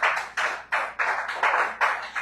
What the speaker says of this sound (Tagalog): Wala nang iba. Palakpak.